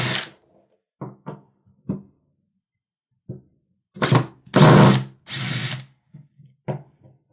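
A Makita HP331DWYE cordless hammer driver drill drives a black screw into a small 2x2 wooden block in several short whirring bursts, with two longer loud runs near the end, close up and alone.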